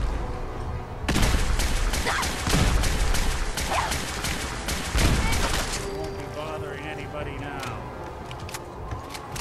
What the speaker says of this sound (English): Oh, he's got a Gauss rifle.